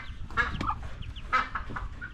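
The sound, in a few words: Peking ducks or poultry calling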